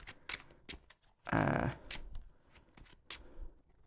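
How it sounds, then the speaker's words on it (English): A deck of Yu-Gi-Oh cards given a quick riffle shuffle, one loud dense burst of card flutter in the middle framed by light taps and card handling, close up, with a brief word spoken. "I'll give it a quick shuffle"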